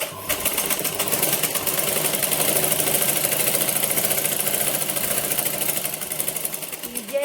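A motor-driven sewing machine with a belt drive stitches continuously, a loud, steady mechanical whir with rapid rhythmic clatter running throughout.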